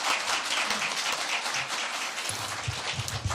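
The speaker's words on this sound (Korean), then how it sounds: "큰 박수로 환영해 주시기 바랍니다." An audience claps to welcome politician Lee Jun-seok to a lecture on healthcare policy, a dense, steady burst of applause lasting a few seconds without pause.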